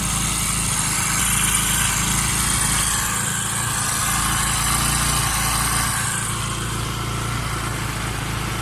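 A Pulsar motorcycle engine idles steadily at close range while its carburettor is being adjusted, a continuous rough drone with a slight change in tone partway through and no talking.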